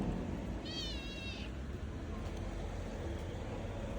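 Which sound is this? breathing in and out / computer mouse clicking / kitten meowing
kitten meowing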